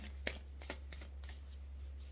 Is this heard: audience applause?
no